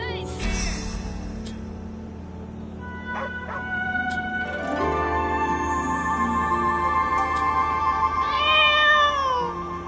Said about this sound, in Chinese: 这里竟然有只小猫，